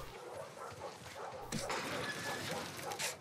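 A dog in The Last of Us Part 2 barks and whimpers in short yips and whines, faint and fairly close, with game sounds around it.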